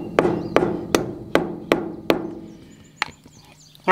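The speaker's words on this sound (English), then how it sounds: "begin to tap it in place with your hammer, rotating your taps along the edge of the bearing buddy until it sits flush and firm" A hammer taps a bearing buddy into a boat trailer wheel hub: six sharp, evenly spaced metallic knocks, then a pause and one more tap, close and clear with no talk.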